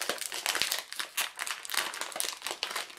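A plastic package of croutons being opened up close, loud irregular crinkling and crackling of the wrapper in quick bursts, with no talk.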